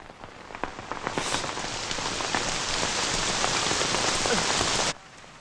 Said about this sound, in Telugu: వర్షం పడుతుందమ్మా.